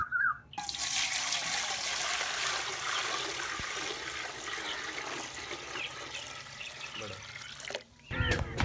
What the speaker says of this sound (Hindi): और इसमें शामिल करेंगे हम पानी।